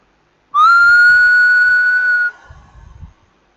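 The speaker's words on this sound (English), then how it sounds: "you will find that the frequency component of the whistle is different for different users" One person whistles a single steady high tone for a spectral analysis demonstration. It holds clear and loud for nearly two seconds, then stops, leaving faint low rumbling.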